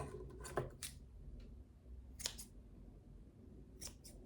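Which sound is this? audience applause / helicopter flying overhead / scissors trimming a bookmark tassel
scissors trimming a bookmark tassel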